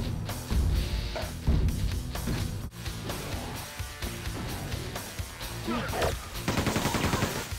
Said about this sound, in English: I'm just going to have to spam up there with the chain gun and hope that I hit him